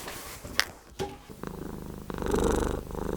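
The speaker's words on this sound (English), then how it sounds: "Oh, them big purrs." A cat purrs loudly and close, a steady rumbling throb that swells in the second half, with a few brief clicks and small noises before it.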